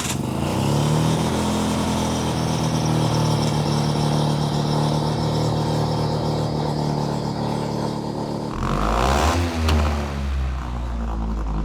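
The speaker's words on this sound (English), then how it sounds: "The car ran smooth." Single-rotor rotary engine car with a water-to-air intercooler, running loud and close with a steady buzzing idle that rises into revving, then a sharp shift in tone near the end.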